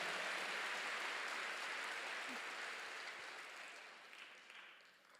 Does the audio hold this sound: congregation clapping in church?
yes